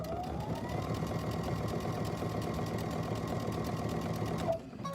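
Sewing machine running steadily while stitching chenille, a continuous close rapid mechanical whir with a faint tonal hum, stopping abruptly near the end.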